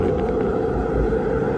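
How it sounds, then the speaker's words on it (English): Loud, steady low roar of piercing cold wind from a portable sound machine, buffeting constantly, a dense rumbling howl with no pauses or voices. "So like you can have a piercing cold wind."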